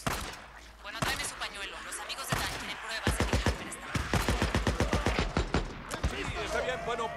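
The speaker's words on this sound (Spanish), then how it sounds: "Escuché disparos." Rapid bursts of gunfire from the zombie video game Days Gone, sharp repeated shots in volleys across the clip, mixed with game sounds and someone talking over them.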